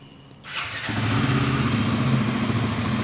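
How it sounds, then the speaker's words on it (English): An engine cranks and catches after a brief quiet moment, then settles into a steady, loud, close idle with a faint fuel injector buzz beforehand. "now I will again turn on the engine"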